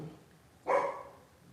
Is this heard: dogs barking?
yes